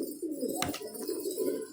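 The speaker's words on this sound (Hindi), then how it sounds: "ये सारे कबूतर माशाल्लाह हमारे हैं।" Pet pigeons coo close by, a soft continuous rolling murmur, with a short sharp rustle or flutter partway through.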